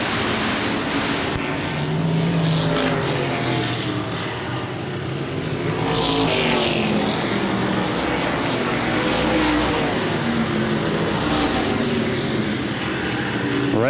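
Modified race cars in a 2013 Fantastic Sams Modifieds feature event at Baer Field Speedway roar continuously and loudly, the engine noise swelling and fading as the pack sweeps past.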